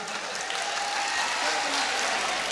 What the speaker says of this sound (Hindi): तालियां तो बजा ही दीजिए